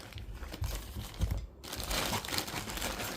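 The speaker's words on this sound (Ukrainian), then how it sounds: "зараз відкриваємо пакет" A plastic package holding a new Volvo XC60 passenger-door wiring harness is torn open, giving a close, steady run of crinkling and rustling with a brief pause midway.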